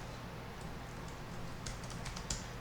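Fingers type code on a computer keyboard, quiet irregular clicks and taps close by over a low steady hum, with a brief cluster of keystrokes near the end.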